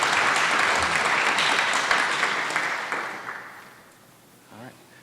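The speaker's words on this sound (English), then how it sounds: "So please give them a round of applause." A crowd at a graduation ceremony applauds steadily for several seconds, the clapping gradually fading out before a brief voice at the very end.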